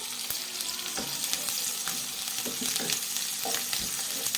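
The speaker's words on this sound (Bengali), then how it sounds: "বেশ ভাজা ভাজা হয়ে আসছে।" Garlic, ginger, onion and green chilli frying in oil on a low gas flame with a constant crackling sizzle, punctuated by soft scraping and stirring taps from a utensil.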